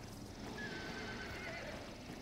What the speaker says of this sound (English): Horse. Distant.